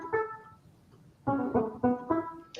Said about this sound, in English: There's a voltage drop, and it's rectifying the bottom half of the wave off